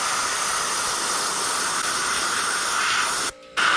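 An airbrush lays a smooth coat of paint on a catcher's mask with a steady, close, even hiss that runs unbroken and stops briefly near the end before starting again.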